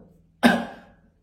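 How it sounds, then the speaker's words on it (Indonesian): A single sharp cough bursts out close to the mic, then trails off quickly into quiet. "aduh, gue batuk."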